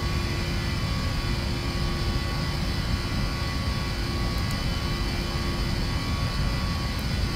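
A Boeing 737NGX's jet engines roar steadily on the takeoff roll in a flight simulator, a loud continuous rumble with a constant whine, no voices during it.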